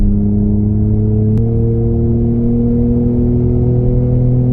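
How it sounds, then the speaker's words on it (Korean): A synthetic virtual engine sound from a Genesis G80 electric sedan, with steady tonal layers droning continuously, shifting pitch slightly partway through, loud and close, with no talking. "전기차인데 지금처럼 가상엔진 사운드를 넣으니까 그냥 내연기관차 같은 느낌을 받을 수가 있고"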